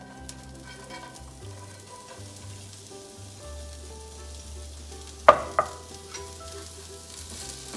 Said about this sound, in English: I feel the heat on the skillet, so I'm going to start by sauteing an onion.